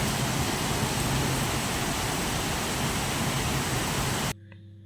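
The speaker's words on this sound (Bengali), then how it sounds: "নিশ্চয়ই বুঝে গিয়েছেন যে কতটা জোরে বৃষ্টি হয়েছে" Heavy rain pours down during a storm with strong wind, a loud, dense, unbroken roar close by that stops abruptly near the end and leaves a quiet, faint hum.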